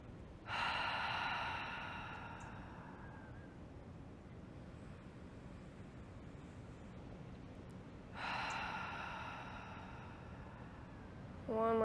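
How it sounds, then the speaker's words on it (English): Slow, deep breaths during a nighttime yoga flow for surfers: two long, airy inhale-exhale cycles several seconds apart, close and soft against a quiet room. "One more big inhale."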